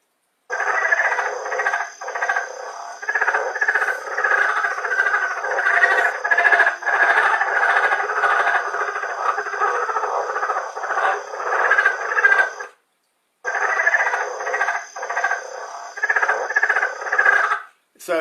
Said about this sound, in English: So I'm going to play the sound now of the leopard frog first.